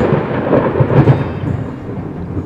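Deep, sustained rumble of thunder from a lightning storm at 13,000 ft in the Colorado mountains, loud and rolling without a break, with a faint rainy hiss beneath it.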